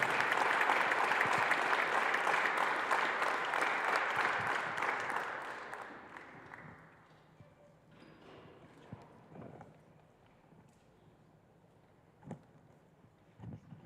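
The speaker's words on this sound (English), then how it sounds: "gentlemen, if you could clap it up" Audience applause at a school board meeting, a dense burst of clapping that holds for several seconds, then thins out and fades, leaving scattered claps and faint room noise.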